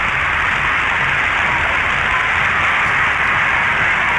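A crowd in Port Said cheers as the president arrives, a dense, steady roar of many voices running unbroken at full loudness from start to finish, with no single voice standing out.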